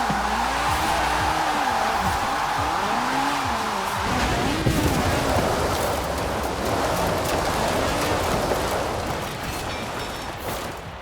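A racing car drifts in the video game Forza Horizon 4, its loud engine droning continuously as the tires squeal and skid through long slides, with the sound tapering off slightly near the end.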